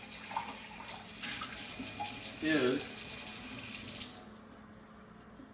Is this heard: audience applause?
no